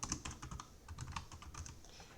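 Quick, light tapping of keys on a computer keyboard, a brisk run of soft clicks at close range with uneven rhythm and no talk.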